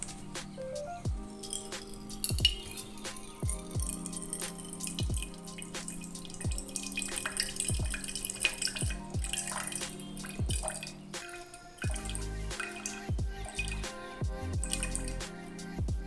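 Distilled water trickles and drips into a container in a quiet room, with irregular splashes and soft clinks over a steady pour.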